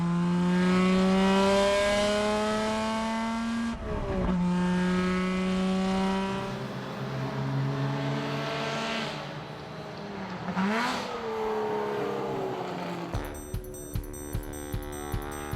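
Classic race cars at the Le Mans Classic, including a small six-cylinder two-liter AC Bristol, scream past one after another with rising and falling engine notes and gear changes, ending in a stuttering, crackling engine burble.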